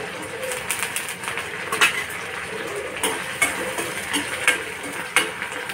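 Curry leaves drop into hot oil already holding mustard seeds, onion and green chillies, setting off a steady sizzle broken by scattered sharp pops and utensil clinks, close by.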